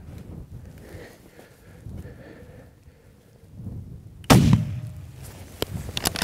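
A single loud rifle shot cracks out during a Wyoming bull elk hunt. It is sudden and close, with a rumbling echo that fades away. Quiet talk and outdoor rustling come just before it.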